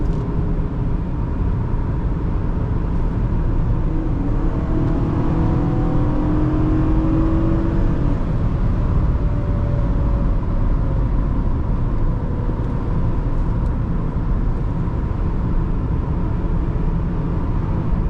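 A 2009 Toyota Camry XLE V6 cruising along back roads, its steady, smooth engine hum and road rumble continuous and moderately loud throughout, with faint tonal whine drifting in the middle.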